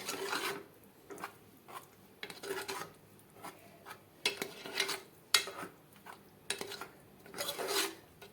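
Repeated scraping of a spoon against a pan of sweet potato halwa, rhythmic strokes about once a second with quiet gaps between, close and fairly soft.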